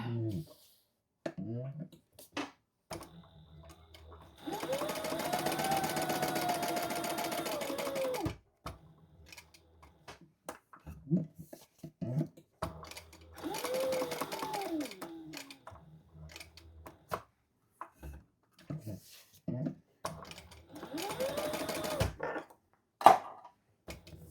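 A sewing machine stitches around the outside of a custom white Croc shoe in several short bursts of steady mechanical whirring, separated by pauses filled with quiet handling clicks.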